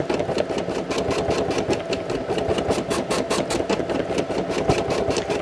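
A Brother SE1900 embroidery machine stitches a design onto a hat, its needle pounding out a fast, steady, even rhythm of mechanical clatter with a constant motor hum, close and continuous throughout.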